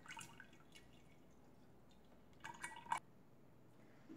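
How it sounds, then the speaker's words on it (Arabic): Strawberry lemonade is strained and poured into a serving jug, giving soft faint drips and trickles with a brief louder splashing burst near the end. "رح صفي الليمونادة ببريق التقديم."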